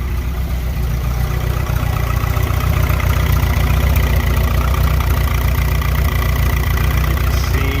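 A turbocharged Honda B20 VTEC car engine idles steadily and loudly up close, a deep rumbling drone with a fast, even mechanical chatter throughout.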